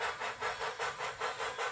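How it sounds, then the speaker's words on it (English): Bachmann On30 2-6-6-2 model steam locomotive fitted with a TCS sound decoder, giving a steady, even run of hissing steam chuffs, about eight evenly spaced beats, close and fairly loud with no talk. "Today I have my Bachmann On30 2662 steam locomotive, which has been upgraded to full sound with the addition of a TCS sound"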